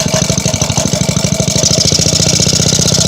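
Small Briggs & Stratton engine running at high idle while half choked, a fast, steady, loud putter of even pulses, close up and alone with no voices.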